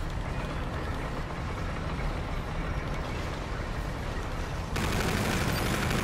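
Gunfire in the Cobra Strike shooter game crackles as a dense, continuous barrage of shots mixed with broad noise. Loudness stays steady throughout and jumps slightly near the end.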